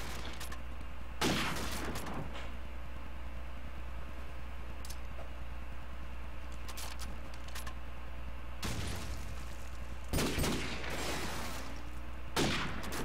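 Gunfire in the Call of Duty 4 game during a competitive match, a few sharp isolated shots and short bursts popping out over a steady droning background hum, with no talk.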